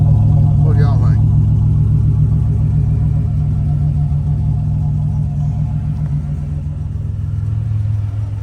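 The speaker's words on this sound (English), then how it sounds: "The motor don't sound bad though." A turbocharged Buick Grand National's engine idling steadily with a loud, deep, continuous rumble close by, as a voice speaks briefly over it.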